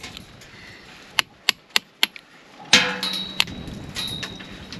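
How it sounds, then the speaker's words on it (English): Trowel or chisel chipping packed dirt and small stones out of gaps in a stone wall at an off-grid homestead in Portugal, heard as several sharp, evenly spaced close knocks followed by scraping and rattling debris. "it's just a matter of chipping out the dirt and also all the small stones that are sort of obstructing that"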